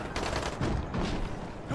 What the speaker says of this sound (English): Wait, I hear shooting.